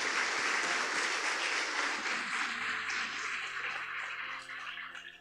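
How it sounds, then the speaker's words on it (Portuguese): Congregation applauding in church during a worship service, a dense wash of clapping that gradually thins and fades toward the end, with faint tones lingering underneath. "Dê mais uma salva de palmas ao Senhor."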